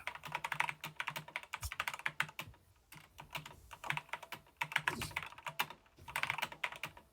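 Fast typing on a computer keyboard, close by, in quick rattling runs of keystrokes broken by brief pauses, with no voices.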